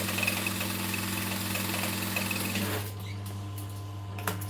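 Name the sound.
sewing machine stitching a vinyl handbag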